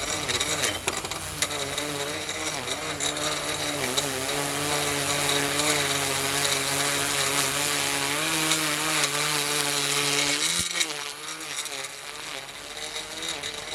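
A gas string trimmer cuts back a lawn edge that has been left overgrown for about nine months, its engine droning loud and steady at close range, then dropping in pitch and easing off near the end.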